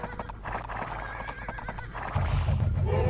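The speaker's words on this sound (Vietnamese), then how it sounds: "bắn chết con ngựa giò sau đó chạy" In a strategy video game, a horse whinnies loudly and shrilly over a busy backdrop of game effects, the neigh rising and wavering through the middle of the clip before deeper thudding noise swells near the end.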